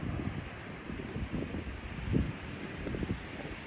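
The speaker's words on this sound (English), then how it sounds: "you're also going to hear the wind" Steady wind buffeting a microphone on a Florida beach at Vero Beach, a continuous low rumbling roar with gusts swelling and fading, surf faintly blended underneath.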